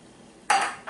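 Condensed milk custard for leche flan being stirred in a bowl, heard as a short, close scraping swirl of a utensil against the bowl after a quiet moment.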